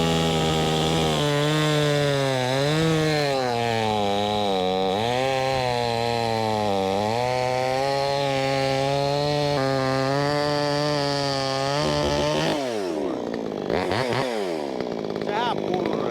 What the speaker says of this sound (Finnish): pannaan tuo pölökky poikki. Samalla testataan tuota sahaa